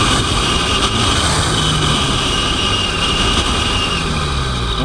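A Renault Modus engine accelerates with a loud, steady roar and rumble that holds constant and close throughout, with a broad rushing noise over the low drone.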